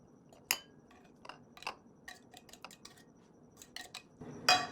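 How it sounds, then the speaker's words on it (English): Drained canned tuna goes into a small mixing bowl with a few light clinks and taps of a utensil against the dish, soft scraping between them, close and fairly quiet with no talking. "I'm going to put the tuna in a mixing bowl here, a little mixing bowl."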